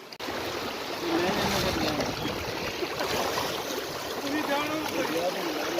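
A small, knee-deep river near Noori Waterfall outside Islamabad rushes and gurgles steadily as a continuous close wash of flowing water, with no break throughout.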